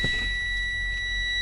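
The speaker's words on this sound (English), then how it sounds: "my alarm will sound" A truck's low air pressure warning alarm: a steady, piercing electronic tone with a second pitch layered beneath it, sounding continuously and loudly over a low engine rumble.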